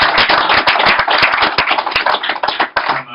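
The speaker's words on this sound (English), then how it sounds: "We give him a big round of applause" A small audience at a genetic genealogy talk claps for the presenter, distinct close hand claps in a quick uneven patter rather than a dense roar, fairly loud throughout.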